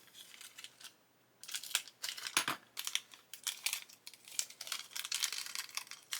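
A plastic bag being cut open with a knife, probably while building a 1:6 scale Shelby Mustang GT500 model, gives bursts of close crinkling and scraping in an irregular rhythm after a brief quiet start.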